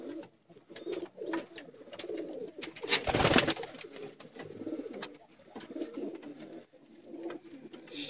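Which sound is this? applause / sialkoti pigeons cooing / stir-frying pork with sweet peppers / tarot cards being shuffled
sialkoti pigeons cooing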